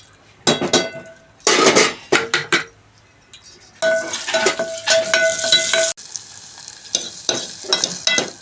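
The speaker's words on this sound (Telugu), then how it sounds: "ఇప్పుడైతే తాలింపు సరుకులు కూడా వేసేసుకుందాము" Tempering spices crackle and sizzle in hot oil in a cooking pan. Loud bursts of frying come and go between short pauses, with a metal spoon scraping and clinking against the pan.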